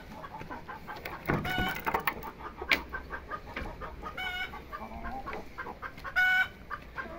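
Chickens clucking in a coop on a farm among ornamental poultry, a steady mix of overlapping clucks and calls at close range with a brief crow-like cry, no talking.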